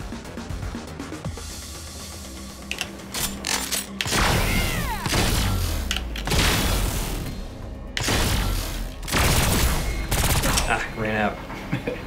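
Gunfire in the video game Agents of Mayhem, repeated loud bursts and rapid volleys of shots with booming impacts, mixed with game effects and talking throughout.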